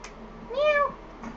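A cat gives a single clear meow, close and fairly quiet, rising then falling, with near silence around it.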